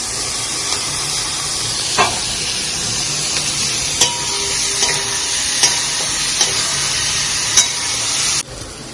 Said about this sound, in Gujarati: પછી એની અંદર 1 મોટું ટામેટું નાખી દેવું